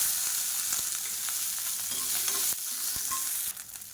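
Small shallots and garlic cloves fry in oil in a pan, giving a steady, close, dense sizzle with a few light stirring clicks and scrapes, and no voices.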